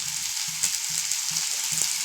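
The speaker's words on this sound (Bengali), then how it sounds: "আলুটা ভাজা হচ্ছে" Potatoes fry in oil in a pan for a vegetarian potato and cauliflower curry, giving a soft, continuous sizzle at moderate distance with a faint low hum beneath.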